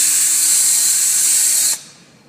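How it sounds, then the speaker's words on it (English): A power drill bores holes into a horse's hoof wall at the white line during laminitis treatment, a loud, close, steady high-pitched whir that stops abruptly near the end. "We're going to drill 3 or 4 holes in the white line"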